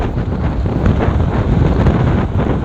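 Strong wind buffets a small boat at sea off Dimasalang, Masbate, a loud, steady roar of gusting air across the microphone with water noise beneath, no voices.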